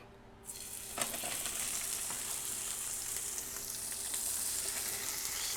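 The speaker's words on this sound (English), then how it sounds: "getting our oil good and hot, right? We're gonna go right in with that tilapia." Tilapia frying in hot oil, a steady broad sizzle that surges as the fish goes into the pan, then holds close and even for several seconds with no talk.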